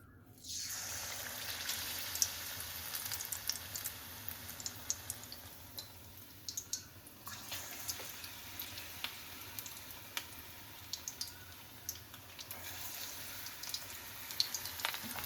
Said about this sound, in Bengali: আমি অল্প অল্প করেই ভেজে নিচ্ছি।